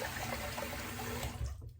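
Water running steadily from a tap into a nearly full sink while a razor blade is rinsed, a close continuous rush with slight splashing.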